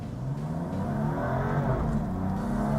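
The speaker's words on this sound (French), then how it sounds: "Les accélérations sont bestiales" A BMW M4 CS accelerating hard, its engine droning loudly and rising steadily in pitch as it revs through the gears, heard from inside the car with no talking.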